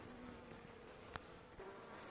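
Honeybees buzz steadily at a hive, droning close by throughout, with a faint click partway through and no voices.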